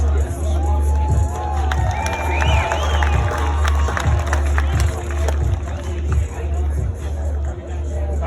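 Crowd at a Bassmaster Elite fishing weigh-in on the Sabine River, a sustained roar of cheering and babble with shouts and whistles, loud and continuous, along with an amplified voice and a rhythmic low thumping beat.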